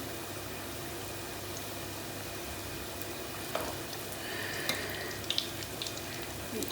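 Mandazi dough fries in hot oil, a steady close sizzle with a few faint clinks and bubbles popping throughout and no talking.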